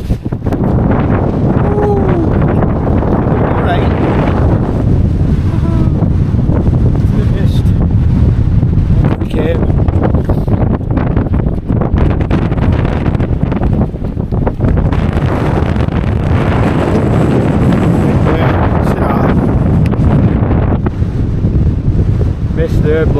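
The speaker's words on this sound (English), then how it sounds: "And then the wind just blew and watch" Strong wind buffets a mountain tarn campsite, a loud, continuous gusting roar that swells and eases, with heavy wind rumble on the microphone. Voices are heard at times beneath it.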